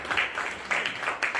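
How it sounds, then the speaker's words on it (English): A brief burst of audience applause for Representative Munira at a community event, steady clapping from a room of people with slight swells, moderately close. "Let's give another round of applause for Representative Munira."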